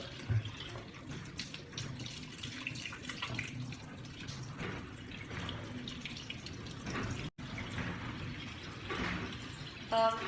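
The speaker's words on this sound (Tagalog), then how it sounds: "Allows flow of water from the area of less contamination, which is the hand, to the area of the most contaminated, which is the elbow." Water runs steadily from a tap into a sink during a surgical hand scrub, a soft continuous splashing with no voices.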